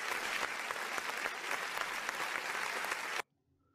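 Applause from the Wer Wird Millionär? quiz game, a dense, steady round of clapping from a studio audience that cuts off abruptly near the end.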